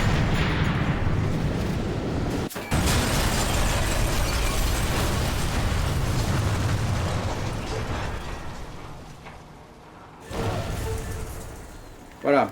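A shot barrel explodes in the Sniper Elite 3 video game, giving a dense, roaring blast that rumbles for several seconds, fades, then flares again briefly near the end.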